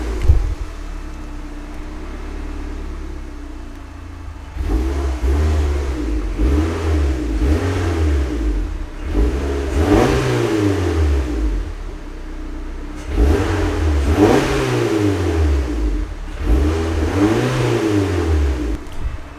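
A turbocharged Mazda Miata engine alternates between a steady low idle and repeated loud revs that climb and fall, each burst of throttle sounding close and strong with no talking over it.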